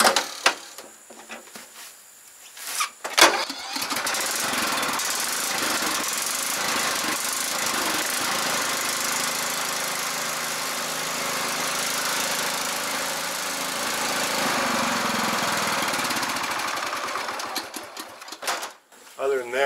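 A Husqvarna lawn mower engine runs steadily at a moderate, even level for about fifteen seconds after a brief start. Its rough droning hum holds under a man's speech, then it cuts off near the end.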